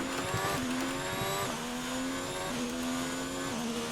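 A Formula 1 car in a racing game screams up through the gears, rising engine whine cut by several quick upshifts at regular intervals, loud and constant with no voices.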